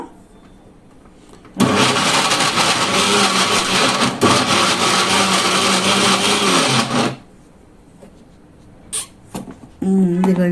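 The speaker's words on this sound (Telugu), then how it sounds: "ఇప్పుడు పచ్చిమిరపకాయలు మిక్సీ వేస్తున్నాను" A mixer grinder whirs loudly as it grinds green chillies, running for about five seconds before cutting off, followed by a few faint clunks and brief sounds near the end.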